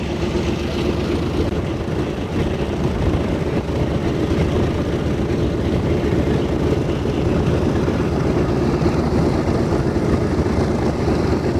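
A nine-cylinder Wright aircraft engine runs rough, giving a loud, constant, throbbing drone that stays steady throughout with no talking over it.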